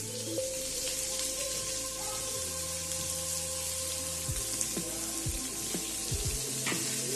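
Onions sizzling and frying in a small amount of oil in a pan for a mutton dak bungalow curry, a steady close crackle with occasional clinks and stirring scrapes, no talking.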